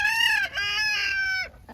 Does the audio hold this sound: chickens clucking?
yes